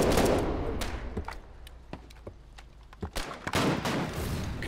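Repeated gunfire in the online war game Foxhole: bursts of rapid shots and scattered single cracks, fairly close and loud, continuing through the clip with no talk over it.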